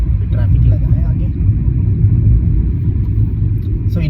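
A car driving on a road during a daily commute, heard as a loud, continuous low road and engine rumble from inside the vehicle, unbroken from start to end.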